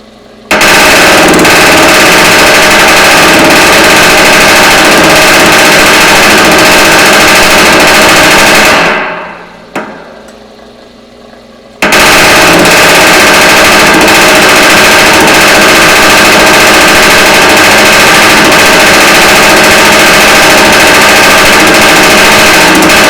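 Rapid, loud mechanical hammering of a power hammer fitted with handmade thumbnail shrinking dies while a sheet metal edge is rolled over. It runs continuously, breaks off for about three seconds, then resumes at full intensity with no voices.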